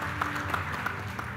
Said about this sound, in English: A big round of applause and congratulations to our winner